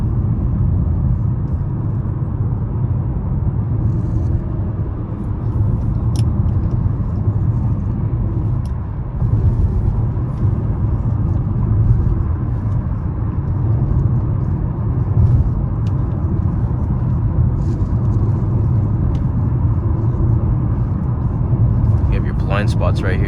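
2021 Nissan Maxima SV accelerating on a freeway, a steady broad engine and road rumble heard from inside the cabin, continuous and fairly loud throughout.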